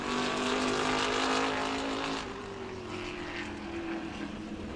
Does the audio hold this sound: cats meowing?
no